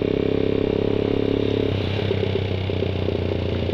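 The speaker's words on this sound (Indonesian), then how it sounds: "Gue dari dulu ini knalpotnya nggak pernah bener, pakai knalpot brong terus." A motorcycle fitted with a loud aftermarket brong exhaust runs nearby, its engine throbbing in a steady, rapid pulsing drone that shifts tone partway through, loud and without any talking.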